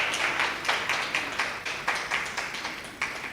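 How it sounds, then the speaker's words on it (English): Applause from a debate audience at the Windward Islands Debating Competition finals, welcoming a judge: steady, fairly faint clapping from many hands, even and continuous with no talk over it. "So a round of applause for Ms."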